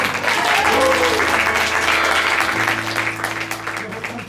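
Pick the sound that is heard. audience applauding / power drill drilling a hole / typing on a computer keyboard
audience applauding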